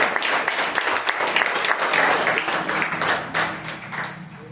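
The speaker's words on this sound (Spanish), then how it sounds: "Démosle un fuerte aplauso al Señor, hermano." A church congregation at a Spanish-language service breaks into loud applause, a close, dense burst of clapping that swells and then gradually thins toward the end.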